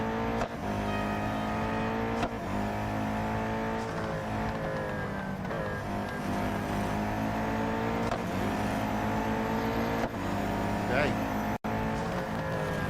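A Koenigsegg Jesko hypercar races in the Real Racing video game, its engine droning and revving continuously through gear shifts over a steady mix, with commentary spoken over it.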